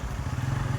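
A motorcycle carrying three riders on a narrow road gives a brief, steady, close engine drone with low rumble and no voices.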